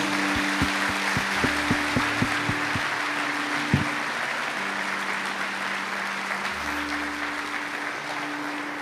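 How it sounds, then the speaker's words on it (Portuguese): A church congregation applauds the Lord during a service, steady dense clapping from a crowd filling the room, with faint tones and voices underneath. "Pode aplaudir o Senhor."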